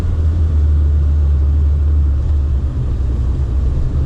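A mint, low-mileage Porsche 993 Turbo accelerating hard with the throttle floored, a loud, steady, deep engine roar and rumble heard close up and alone for about four seconds.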